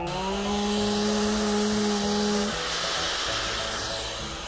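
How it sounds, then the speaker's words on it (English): A small electric motor in a toy hair dryer whirs with a steady buzzing hum, close by, its pitch dropping partway through as it keeps running. "and hairdryer."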